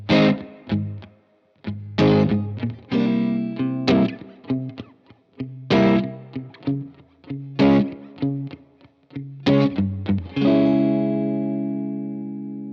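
Guitar plays the short, sparse section after the bridge of a song: choppy strummed chords broken by brief gaps, ending in a long ringing chord, close and alone.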